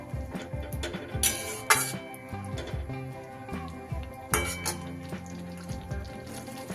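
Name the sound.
mixing fried paneer in chili sauce in pan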